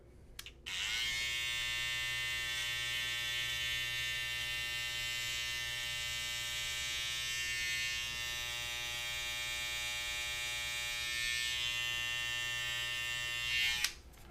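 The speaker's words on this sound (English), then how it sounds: "Make sure you have a lot of control over the trimmers" Electric hair trimmers cutting a skin fade, a steady close-up buzz running unbroken for about thirteen seconds with a click at the start and end.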